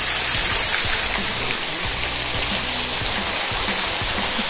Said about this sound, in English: Probably can't hear me because of that waterfall